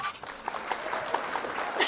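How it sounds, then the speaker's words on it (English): Recorded applause sound effect played during an interview, a brief, faint patter of clapping with a few voices mixed in. "Let me get my applause real quick."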